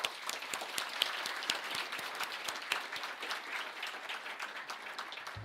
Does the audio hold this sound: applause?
yes